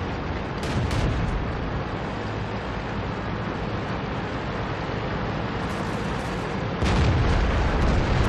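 An SU-152 tank gun fires in World of Tanks with two loud booming blasts, one early and one near the end, over a dense continuous roar of engine and battle noise.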